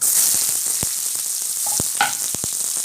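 Onions, chana dal and curry leaves frying in a pan for sundaikai poriyal, a steady close hiss of oil with a few sharp clicks and spoon taps breaking through.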